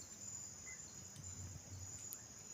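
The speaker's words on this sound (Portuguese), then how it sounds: "Os grilos já estão cantando, tá vendo, ó?" Crickets chirp at dusk on a rural Brazilian farm as darkness falls, a faint, steady high-pitched trill running continuously without any voices.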